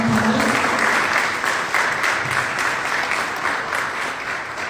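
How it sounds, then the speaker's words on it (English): An audience at a cigar and rum business forum applauds the ambassador of Mexico, a dense, sustained round of clapping that stays loud and slowly tapers. "Please give him a round of applause."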